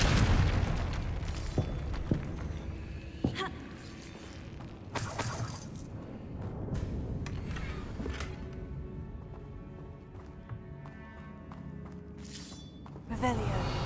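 Repeated Confringo fire spell blasts burst in Hogwarts Legacy, sharp explosive cracks and shattering impacts scattered across a busy, layered game soundscape.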